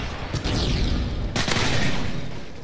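Call of Duty Modern Warfare 3 multiplayer gunfire: a dense, loud wash of shots and explosions with a sharp crack near the middle, constant battlefield noise and no clear pauses.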